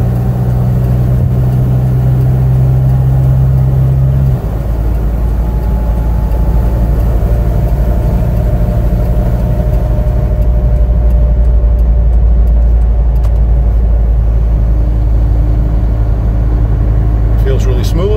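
A 2020 Hino 195 refrigerated box truck drives along with a loud, steady low engine rumble and road noise heard from inside the cab; an early whine drops away and people talk over it throughout.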